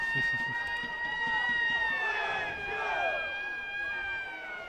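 A siren sounds at a Sardinian amateur football match between Bonorva and Villacidrese, a steady whine with several high tones that holds throughout over crowd noise, while a commentator speaks.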